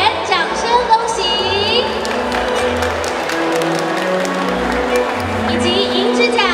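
An award ceremony audience at a student project and creativity competition gives sustained applause and some cheering, with a loud announcer's voice speaking over the clapping throughout.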